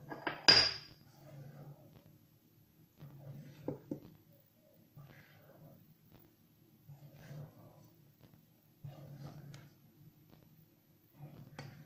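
A spatula folds strawberry bavarois batter in a bowl, with soft, faint, repeated scraping strokes at a slow, even rhythm, after a brief louder clink at the start.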